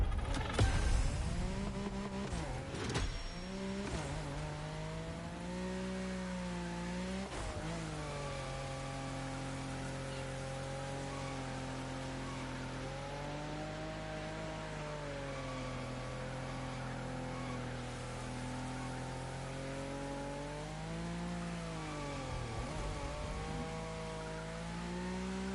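A drift car's engine in the racing video game The Crew Motorfest drones steadily, its pitch rising and falling as the revs climb, hold and dip, with a louder revving start and no talk over it.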